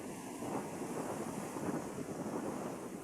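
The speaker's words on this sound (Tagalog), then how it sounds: "Lakas ng alon, no?" Strong waves crash steadily onto a windy shore with a constant roar, while gusts buffet the microphone throughout.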